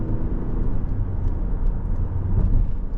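Dumbbells sliding and rattling in the back of a truck as it takes a sharp turn, heard over a loud, steady low engine and road rumble with faint clatter.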